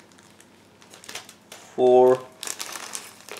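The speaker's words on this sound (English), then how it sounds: "But first we need to check this separate plastic bag." A separate plastic bag holding resin parts and clear sprue from a 1/72 Brengun Yak-1 Winter model kit crinkles in quick rustling bursts while someone talks, with one brief loud crackle in the middle.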